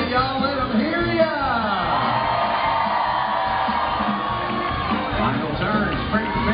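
A packed arena crowd at Dolly Parton's Stampede dinner show cheers, whoops and yells together in a loud, sustained roar, with a few voices standing out above the din.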